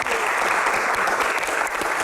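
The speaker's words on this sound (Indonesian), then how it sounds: "tepuk tangan dong" Steady applause from an audience at an event featuring Indonesia's law minister Supratman, dense clapping sustained throughout without a break.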